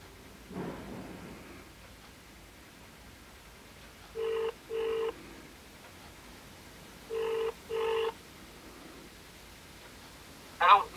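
An iPhone 4 running iOS 4.1 on speakerphone places an outgoing call: two pairs of clear electronic ringback tones sound at a steady rhythm, with a faint rustle before and a brief click at the end.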